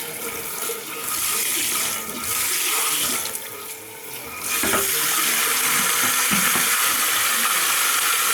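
Water runs steadily from a salon basin tap while a man's head is washed during a hair system fitting, with splashing shifts as the flow hits hair and basin; no talk.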